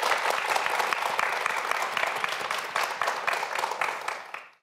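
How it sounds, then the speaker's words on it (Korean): A studio audience at a Korean TV quiz show applauds a student contestant, with steady, dense clapping that holds for several seconds before tapering off at the end. "우리 이명규 학생에게 다시 한번 박수 보내주시기 바랍니다"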